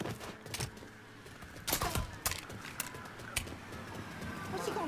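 Gunfire in the video game Mafia III, several sharp separate shots in an uneven burst over ambient game noise, with muffled voices and movement sounds between the reports.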